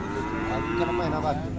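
A Khillar cow moos once, a low, drawn-out call close by, with faint background murmur at the Sangola cattle market.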